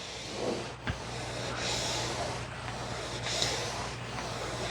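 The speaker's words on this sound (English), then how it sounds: "now it's just continuously making steam coming out the bottom" A Shark steam mop gives off a soft, continuous hiss of steam from its base, quiet and steady over a low hum, with a few faint bumps as the mop moves.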